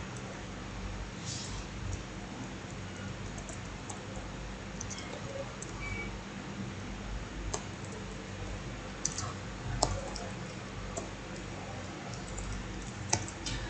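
Typing code on a computer keyboard in Visual Studio Code while building a Bootstrap 5 website, with faint, scattered keystroke clicks over a steady low room hum.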